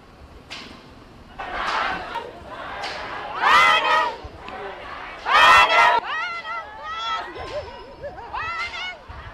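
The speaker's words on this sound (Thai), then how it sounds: "เห็นคนถือดอกไม้ส่งเสียงเชียร์แบบนี้หน้าลานศาลาว่าการเมืองพัทยา" A flower-waving crowd outside Pattaya City Hall cheers for mayoral candidates, with bursts of shouts and whoops over murmuring chatter, swelling loudest at a couple of peaks before trailing into scattered calls.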